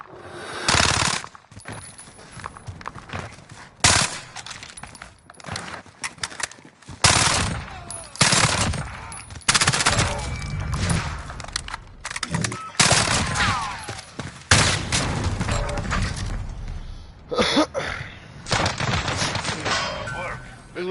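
A light machine gun firing in a video game, long loud bursts of dense automatic fire broken by brief gaps, continuing over most of the stretch with some talk and game noise mixed in.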